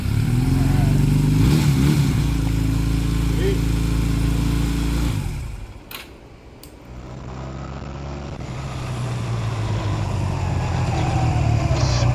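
Honda Rebel motorcycle engine, its frame repaired and engine reinstalled, runs loud and steady up close, cuts out for a moment, then fires back up and settles into a strong, throbbing idle.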